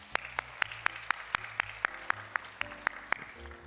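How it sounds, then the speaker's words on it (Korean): Audience applause fills a church Q&A session, a fairly faint patter of many hands clapping steadily, with a few sharp louder claps standing out over a short burst. "박수 부탁드리겠습니다."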